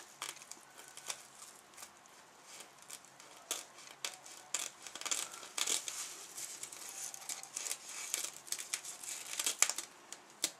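Small scissors snip and crinkle through the lace of a lace-front wig close by, a quiet run of irregular little cuts and rustles growing slightly busier.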